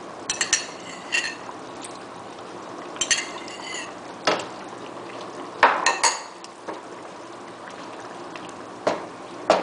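A spoon stirs jigo in a small pot after lemon juice goes in, making scattered metallic scrapes and clinks, a few brief bright knocks against the pot, quiet between strokes, nearby and with no talk.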